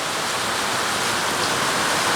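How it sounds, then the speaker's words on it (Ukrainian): Heavy rain pouring down outdoors, a dense, steady, hissing roar of water that stays loud and unbroken throughout, with no voices. "Отака у нас зараз злива."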